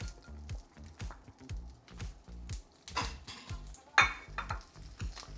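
Slices of brioche French toast, soaked in egg with cinnamon and salt, cook in butter in a pan over moderate heat, giving a quiet, steady sizzle broken by soft scrapes and clinks of utensils against the pan.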